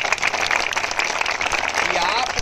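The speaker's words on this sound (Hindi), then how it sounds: "बहुत कमजोर ताली है" Protest crowd at a sit-in hunger strike by UP TGT/PGT teacher candidates clapping in a dense, steady patter with voices mixed in throughout.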